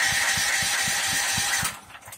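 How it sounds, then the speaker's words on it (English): A Firman H07552 dual fuel generator engine dry cranks with a rapid, even pulsing chug that stops abruptly near the end, loud and close with a steady mechanical whir. "What I want to do before I even think about turning this thing on is go ahead and do a dry crank."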